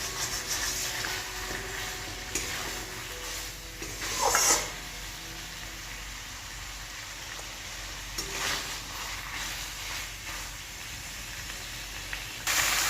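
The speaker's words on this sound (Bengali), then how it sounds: "এখন চিকেনটাকেও আমি ভালো করে ভাজবো মশলাটার সাথে।" Chicken frying in a pan with masala, turmeric and salt makes a continuous hissing sizzle, with occasional louder bursts of stirring and pan scraping, close by, with no talking.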